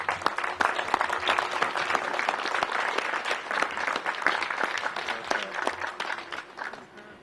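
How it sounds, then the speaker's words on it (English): An audience applauds steadily, many hands clapping in a dense, lively patter that holds for several seconds before tapering off. "a big round of applause"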